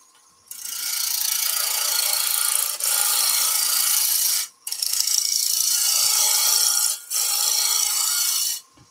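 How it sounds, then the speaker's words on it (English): A wood lathe spins a workpiece at higher speed, around 1600 rpm, giving a loud, close, steady whirring rasp that runs almost continuously with two brief dropouts. "Let's turn the lathe speed up to about 1600."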